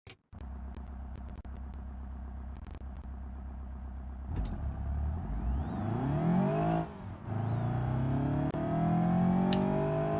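BeamNG.drive street-tune 200BX car engine, idling with a steady rumble and short blips, then revving and accelerating loudly with rising pitch and gear changes, close and alone.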